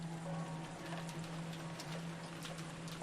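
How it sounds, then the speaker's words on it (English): Steady rain in the visual novel game Umineko When They Cry, a continuous broadband hiss with patter holding at an even level under a low hum throughout. "the sound of the rain is actually strong here"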